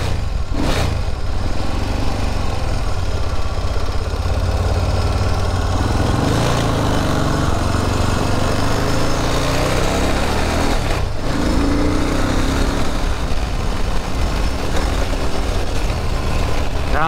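A Moto Morini motorcycle engine runs loud and close, holding a steady rumbling idle with a few brief sharper revs throughout.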